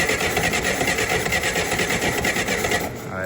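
An old Hyster flathead forklift engine runs on high idle close by, a steady, busy mechanical chatter with rapid rhythmic ticking that fades slightly at the very end.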